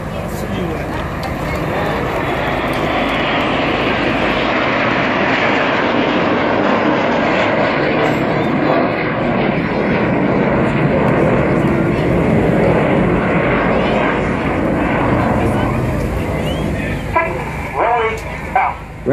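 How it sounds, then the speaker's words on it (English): Red Arrows jets roar overhead at the 2014 Rhyl Air Show, a loud sustained rushing engine sound swelling and fading, with a commentator talking over it. "Red 6 working hard, flying his jet only 8 feet away from Red 7"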